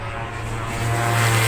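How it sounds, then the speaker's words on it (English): Superbike racing motorcycles pass through a chicane at the Bishopscourt circuit in Northern Ireland, a loud continuous engine drone with a steady low tone that swells slightly as the machines come past. "The rest of the Superbike machines are coming through the chicane now"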